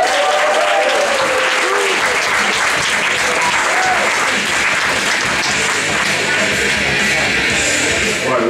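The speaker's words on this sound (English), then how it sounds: "So clap, stamp and cheer." A comedy club audience claps, stamps and cheers, a loud continuous roar of applause with thumping feet and whoops filling the whole stretch close to the microphone.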